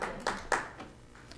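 Attendees at a county school board meeting applaud briefly, a few sparse hand claps in a room that quickly trail off into quiet.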